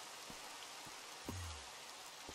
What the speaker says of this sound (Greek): Τώρα αυτό είναι βροχή, ναι. Τι περίεργη βροχή είναι αυτή.